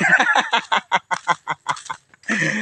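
Close-up clucking from a chicken, a quick series of short, rhythmic clucks with a brief pause before a louder, busier burst.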